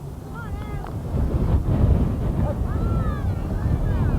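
Steady, loud wind buffeting the microphone throughout a softball game, with a constant low rumble and faint voices or whistles in the background.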